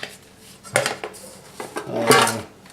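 Plates and pots from a camping cook set clink and clatter together in a few bright metallic knocks and rattles, close and fairly loud, with no talking.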